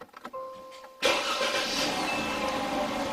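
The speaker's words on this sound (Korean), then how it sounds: "자, 시동 겁니다." A SsangYong Chairman converted to LPG starts on petrol, with a brief cranking whir that catches into a loud, steady idle close by.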